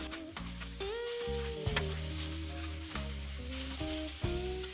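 Pork chops sizzle on a Weber Slate flat-top griddle, a steady crackling fry with scraping and tonal clanks of a metal spatula as the chops are flipped, close and loud.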